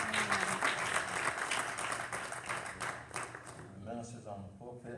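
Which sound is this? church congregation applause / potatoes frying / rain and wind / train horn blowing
church congregation applause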